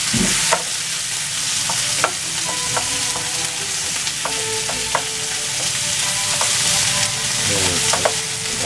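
Carrots and onions frying in a pot after meat for a homemade cream stew, a steady close sizzle broken by repeated scraping stirs of a spoon against the pot, with no talk.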